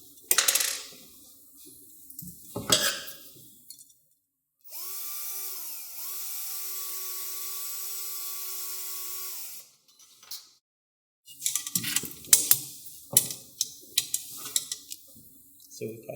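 A power driver tightens the bottom ring of an external fixator frame on a tibia during surgery, one steady whirring run of several seconds between clinks of metal parts and bursts of handling noise.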